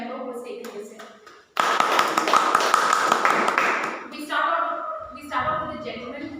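A room full of Toastmasters club members in Nagarabhavi breaks into hearty clapping to welcome each member. The applause starts abruptly, holds strong for a few seconds, then fades, with talk just before and after.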